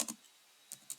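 A few crisp keystrokes on a computer keyboard while writing C++ code: a short cluster at the start, a pause, then two more taps near the end, quiet and close.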